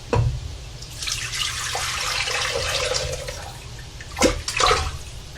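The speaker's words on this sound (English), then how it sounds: "I'm adding the stock right to the crock pot." Homemade turkey stock poured into a crock pot for a chicken and hearty greens soup, a steady liquid pour running for several seconds with a couple of louder splashy bursts near the end, no talking.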